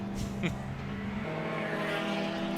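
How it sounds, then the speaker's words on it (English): An Aston Martin racing in a historic motorsport event at Goodwood passes with a loud engine note that shifts pitch as it goes by, then drops onto the overrun. A commentator talks over it. "Little spit of flame from the exhaust on the overrun from the Aston Martin."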